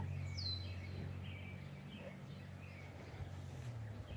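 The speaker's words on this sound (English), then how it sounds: "it's a little baby bird" Thin, high chirps from a tiny baby bird come in short bursts over a steady low hum, faint and somewhat distant.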